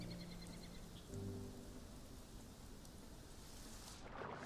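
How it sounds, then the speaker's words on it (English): Steady rain falls in the video game Prehistoric Kingdom, a soft, continuous hiss of drops that stays faint and even throughout. "I wish this rain would stop."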